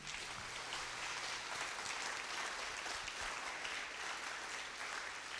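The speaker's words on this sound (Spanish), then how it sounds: "Dale un aplauso al Señor entonces." Church congregation at a Spanish-language Sunday service applauding in praise, a continuous, fairly soft wash of many people clapping at a steady level with no voices on top.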